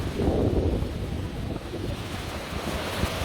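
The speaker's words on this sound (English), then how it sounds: "Rough weather today, windy." Strong wind blows at a beach on the Burundi shore in rough weather, buffeting the microphone steadily over the rush of nearby surf, with no voices.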